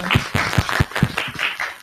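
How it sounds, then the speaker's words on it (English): An audience at a panel discussion gives a short burst of clapping, a handful of separate, fairly close claps with a slightly uneven rhythm that soon fades out. "Let's clap for that"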